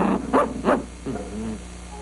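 A farmer's dog barks a few times in quick succession, close and fairly loud, followed by a short whine.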